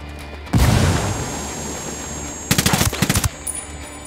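Video game gunfire from Ghost Recon Wildlands: a loud sustained burst of automatic fire opens the clip, then a second clatter of rapid shots a few seconds later, with a low boom underneath.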